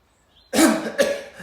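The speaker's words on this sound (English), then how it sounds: "you breathe in deeply and try to cough loudly" Two loud, deliberate coughs in quick succession during a breathing exercise after a deep inhale, each a sharp burst following a faint breath, close and alone with no talk.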